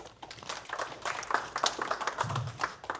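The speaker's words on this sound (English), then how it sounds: "I don't know if I have been welcomed with applause yet" Scattered applause from a small town hall audience welcomes a state representative to the front, a few seconds of uneven, loosely spaced claps close by.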